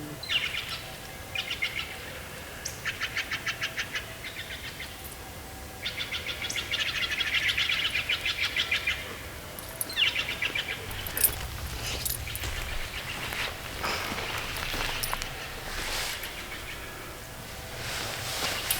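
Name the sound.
birds calling, upset, in the forest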